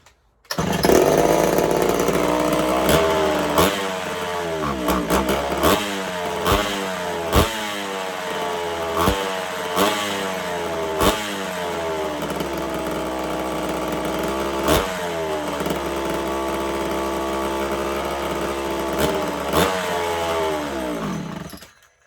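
A ported Homelite XLA chainsaw engine running loud and close, a buzzing two-stroke drone with repeated sharp revs and dips and a drop-off at the end.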